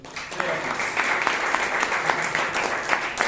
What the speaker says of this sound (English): One first round of applause to Toastmaster